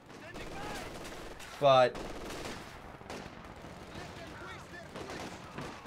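Machine gun and sniper fire in the real-time strategy game Company of Heroes 2, scattered gunfire cracks and bursts of rattling fire with one loud sharp blast, under a commentator's talk.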